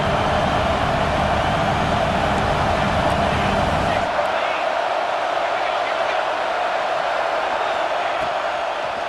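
Stadium crowd in the EA Sports College Football 26 video game, a dense, loud roar that holds steady throughout, with the deepest rumble dropping away about halfway through.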